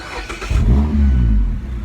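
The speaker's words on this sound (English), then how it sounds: "so this is my first time hearing this muffler." A Mazda Miata MX-5 ND with a GWR RoadsterSport Super Street exhaust starts up and revs with a deep, throaty exhaust rumble that swells and holds, loud and close.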